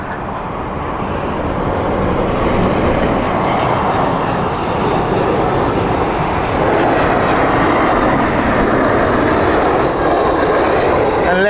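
A Qatar Airways Airbus A380 at Heathrow Airport, its jet engines producing a loud, steady roar that holds for the whole stretch, with faint voices in the background.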